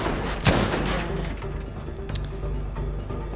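Shooting in the video game Battlefield V: one sharp, close gunshot crack near the start, then a dense bed of distant gunfire and battle noise continuing underneath.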